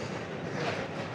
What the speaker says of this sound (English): That's the train we were on, which I think runs every 15 minutes out of the centre of Geneva.